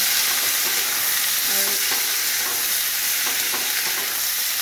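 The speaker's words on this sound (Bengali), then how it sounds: "এগুলো দিয়ে আমি ভেজে নিলাম" Chicken pakora frying in a pan with onion, tomato and capsicum for chilli chicken, a steady close hiss of oil with brief stirring scrapes throughout, no talking.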